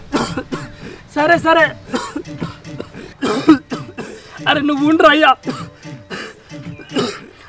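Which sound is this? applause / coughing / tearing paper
coughing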